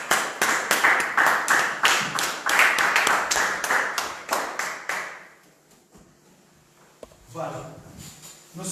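A church congregation claps in rhythmic applause, a steady run of sharp hand claps that builds loudly for several seconds, then fades out into quiet room noise with a brief voice near the end.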